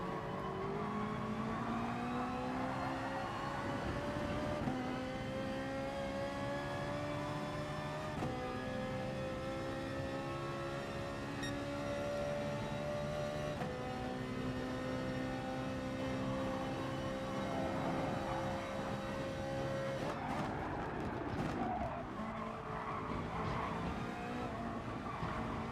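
Race car engines in Gran Turismo Sport, a dense multi-car drone of high-revving motors that rise steadily and drop at gear shifts, heard continuously at a moderate level with no talk.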